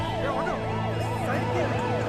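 An ambulance siren wails in rapid rising and falling sweeps over a low rumble of engine and noise from a traffic jam near a city tunnel.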